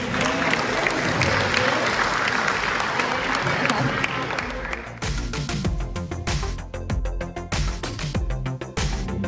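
Parents and family members applaud at a University of Maryland new student orientation, a thick wash of clapping from a large audience that thins into a speaking voice over scattered claps in the second half.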